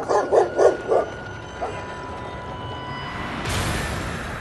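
Four quick, loud barks in a row from a monstrous dog in the video game Lies of P, followed by a faint yip and then steady game ambience and a rising whoosh.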